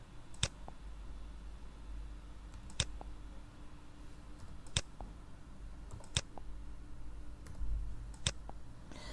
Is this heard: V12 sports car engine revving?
no